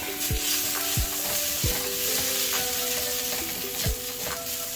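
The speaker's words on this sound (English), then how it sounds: "you're gonna crush some garlic into the wok." Garlic sizzles and fries in a hot wok for Singapore noodles, a steady hiss with repeated stirring knocks of the utensil against the pan throughout.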